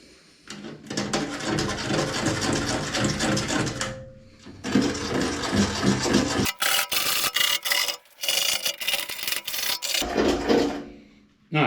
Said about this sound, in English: I'm going to deburr those just a little bit.